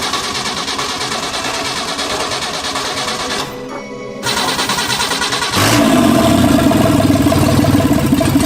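A 1984 Ford Capri V6 being brought back from abandonment cranks with a fast, buzzing starter, pauses briefly, cranks again, then catches into a louder, steady running engine, close up and alone.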